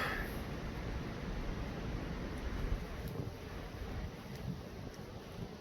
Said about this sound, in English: You can see the wind is blowing